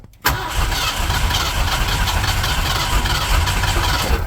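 A turbocharged Ford 351M engine with an MSD ignition box cranks over in a loud, continuous starter whir that kicks in abruptly and holds steady without catching.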